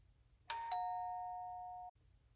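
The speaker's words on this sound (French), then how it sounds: "la sonnette stridente de la porte retentit" A shrill electronic doorbell rings once inside a house: a bright two-tone chime that sustains evenly for over a second, then cuts off abruptly, alone over a low background hum.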